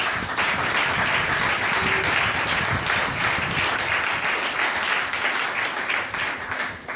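A church congregation applauds, a dense, steady wash of many hands clapping that fills the room at full strength and thins slightly toward the end, with no talk.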